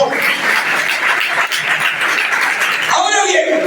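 A church congregation claps together in a dense, steady burst of applause that fills the room, then fades as a voice begins speaking near the end.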